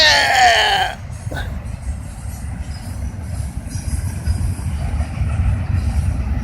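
A big train rolls past close by, with a continuous rumbling clatter of wheels on rails that stays steady throughout, after a brief voice at the very start.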